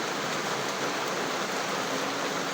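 Heavy typhoon rain and wind roar outdoors in the Philippines, a dense, unbroken hiss that stays loud and constant throughout with no voices.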